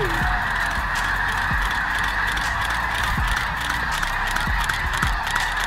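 A flock of at least 10,000 geese in flight honk and call continuously, a dense, loud chorus with a steady roar of wings and scattered nearby cries.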